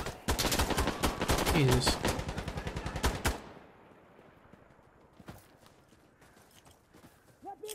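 Rapid loud shotgun blasts with flechette rounds in Insurgency Sandstorm fire in a quick close burst for about three seconds, then fade into quiet ambience with a few distant thuds; a man briefly exclaims.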